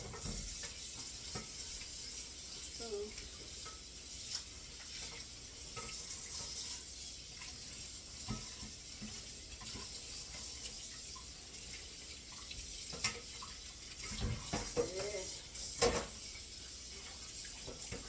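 An eggplant is washed under a running kitchen tap for a salad, with a steady faint hiss of water and soft splashing and rubbing sounds as it is handled.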